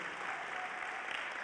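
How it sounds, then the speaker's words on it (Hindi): Applause from an audience welcoming a pastor onto a Christian television show, a steady, dense wash of clapping that holds evenly and fairly softly throughout the short stretch. "तो आए हम ज़ोरदार तालियों के साथ पास्टर जैक को ज़ोरदार तालियों के साथ वेलकम करें"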